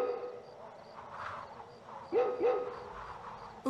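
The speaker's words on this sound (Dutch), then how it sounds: "Dat is het geluid van een hond die echt heel erg hard blaft." Two short, sharp dog barks ring out close together near the end, over a low background murmur.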